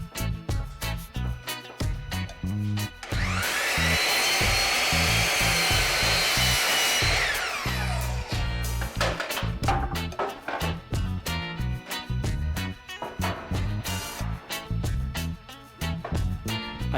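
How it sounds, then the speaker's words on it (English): A power saw screams through a length of wood for a Pikler climbing triangle in one sustained, loud cut, with workshop knocks and handling clatter before and after. "Here I'm cutting the length of the wall climber"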